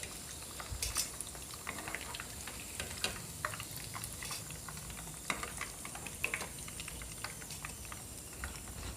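Chicken popcorn fries in oil over a medium flame, a continuous close sizzle and crackle with scattered sharper pops throughout.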